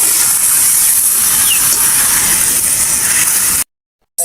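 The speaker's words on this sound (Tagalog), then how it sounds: "Nagisa na po natin ng maigi hanggang sa mag-sirit-sirit." Spicy pork sautéing with salt and ground pepper in a hot pan gives off a loud, steady sizzling hiss that runs unbroken before cutting off abruptly.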